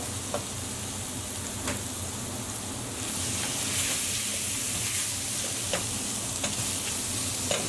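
Potatoes tipped into a pan of softened onions set off a steady, close sizzle of frying with turmeric, broadband hiss throughout, a few clicks of stirring, growing a little brighter after a few seconds.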